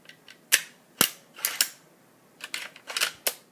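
Marlin 336 lever-action rifle, current production, worked slowly by hand: a series of separate sharp metallic clicks and clacks from the action, spaced out with short pauses, close and clear with no talking.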